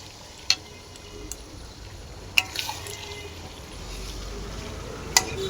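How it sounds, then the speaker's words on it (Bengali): Chicken being stirred in a frying pan gives a few sharp metallic clinks of a utensil over a faint, continuous sizzle, with soft scraping between the taps. "দেখো চিকেনটাকে দিয়ে এবার এখানে মিক্স করে দেবো।"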